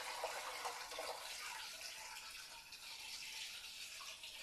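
Hot turkey stock pouring through a strainer, a steady broadband wash of splashing liquid running continuously at close range with no talk.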